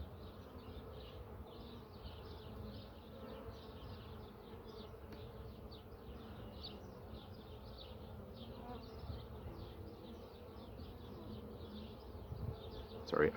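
Honey bees in an open hive during honey super addition, frames being pushed closer together, give a steady dense buzzing hum that continues alone throughout, close and even, with a slight rise at the very end.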